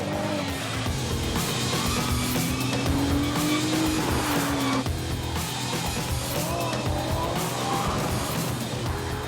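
A Ferrari 296 GTB on a hot racing lap, its engine droning continuously with shifting pitch while tires squeal and skid through corners, close and sustained throughout.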